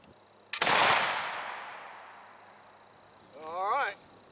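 A single sharp blast from a flintlock gun goes off close by and decays into a long rumbling echo outdoors. A short voiced exclamation follows near the end.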